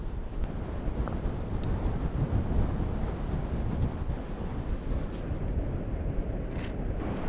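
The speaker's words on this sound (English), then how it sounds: "Well, as you can see, it's rather windy down here now." Steady, blustery wind buffeting the microphone on a sandy beach, a constant low roar with faint surf-like wash of the incoming tide underneath and no voices.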